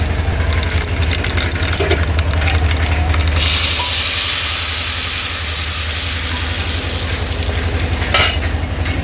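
Loud hissing sizzle of lentils frying in hot tempering oil, with a few metallic clinks of a spoon against the pan.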